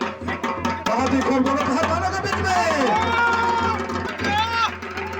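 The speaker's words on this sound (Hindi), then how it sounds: "अपने से देखियो भीड़ कते लागल है।" A dense crowd at an outdoor wrestling match during a Kali Puja festival dangal, with a steady roar of chatter and shouts, whistles and calls rising above it, and a loud announcer speaking throughout.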